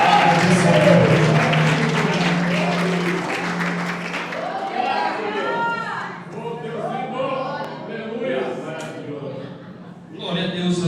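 A church congregation at a Portuguese-language celebration service applauds in a loud burst of clapping for the first few seconds. A voice then carries on speaking over a fading room background.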